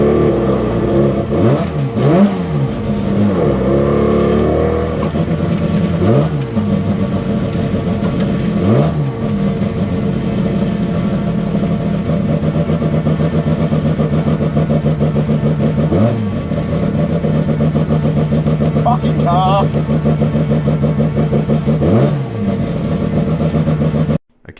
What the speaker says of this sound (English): Obviously the car didn't want to start, but it started through a bump start